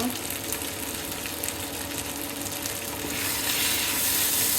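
Eggplant with chili and coriander powder sizzles steadily in a pan while being stirred, a continuous frying hiss with scraping stirs throughout, growing slightly louder near the end.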